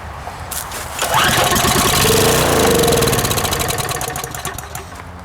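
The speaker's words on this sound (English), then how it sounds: "Watch it start again with starting fluid." A Harbor Freight engine that sat for ten years catches on starting fluid, cranking into a loud, rough, rhythmic chugging that surges and then begins to fade, close and without talk.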